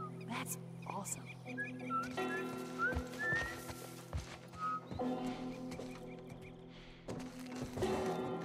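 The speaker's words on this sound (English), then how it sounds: "I'm whistling!" A character in The Last of Us Part I whistles in short rising tones against a steady game backdrop, with talk in the scene around the whistling.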